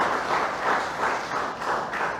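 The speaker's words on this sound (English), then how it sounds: "Please continue clapping as I take the name of our dignitaries" An audience at a school trophy unveiling ceremony in a village panchayat in Calangute claps steadily in a dense, sustained wash of applause that swells and dips slightly.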